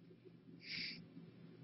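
A short, bright chirp from a cat being handed over for adoption, rising briefly and alone over a low room hum, fairly close and moderately loud.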